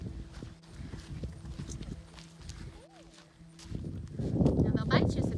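Small wild ponies walk along at Grayson Highlands, their hooves giving a soft uneven clip-clop that grows louder near the end, with people talking nearby throughout.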